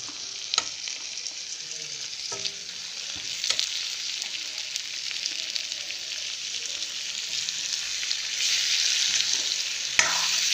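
Marinated broiler chicken pieces sizzle and fry steadily in a hot pan, a dense continuous hiss broken by occasional sharp clinks and scrapes of stirring, with no talking.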